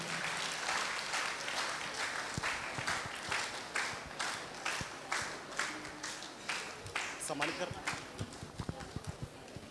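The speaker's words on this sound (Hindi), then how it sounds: "जोरदार तालियों के साथ हमारे फादर का स्वागत करें" Sustained enthusiastic applause from a church youth gathering in Ranchi welcoming a priest, with rhythmic clapping that pulses in loose waves and voices faintly mixed in.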